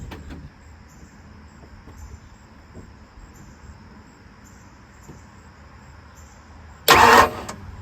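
A freshly rebuilt Ford 302 small-block V8 in a 1970 Ford Falcon is bumped over by the starter in one short, loud burst near the end, after a long stretch of quiet background with chirping crickets.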